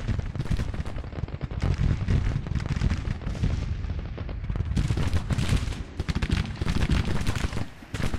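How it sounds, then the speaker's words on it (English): Civil War battle line musket fire in Grand Tactician, a dense, continuous crackle of many rifles firing at once with heavier booms mixed in, steady and loud throughout with no talk. "Man, listen to all that fire on the line."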